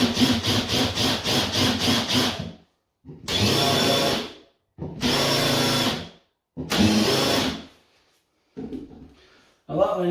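A drill countersinks screw holes in wooden floorboards: one rapid pulsing burst, then three longer loud grinding runs separated by short pauses, ending with faint scraping and one brief final burst, with no talking.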